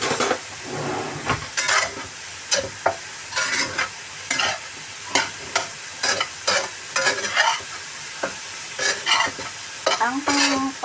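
Cauliflower garlic fried rice being stir-fried in a pan, with a constant sizzle and rhythmic scraping and clanking of a utensil against the pan, loud and close.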